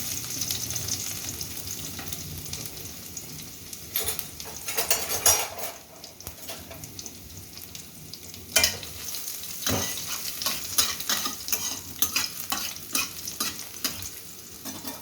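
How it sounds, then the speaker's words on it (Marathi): Cumin and garlic tempering in hot oil in a kadhai, a steady close sizzle with a spoon scraping and stirring, and occasional clanks of metal against the pan. "तर चला आता जिरे टाकूया अगोदर फोडणीला, लसूण टाकूया"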